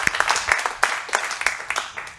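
A church congregation applauds with scattered hand claps, a loose burst of overlapping claps at moderate distance lasting a couple of seconds.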